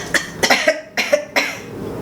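Four separate coughs in an uneven rhythm during a vagus nerve exam, each a short harsh burst, close to the listener with quiet gaps in between.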